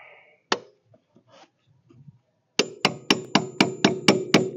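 A hammer strikes a cotter pin on the axle of a 2007 Polaris 500 Ranger 4x4 UTV. A few scattered knocks come first, then seven sharp, evenly spaced metallic taps ring out close and loud.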